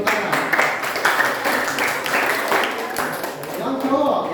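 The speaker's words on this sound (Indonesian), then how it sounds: "Oke, tepuk tangan." Students clapping hands in a classroom after introductions during a Japanese lesson, a few seconds of steady, moderately loud applause from a group, with scattered voices underneath.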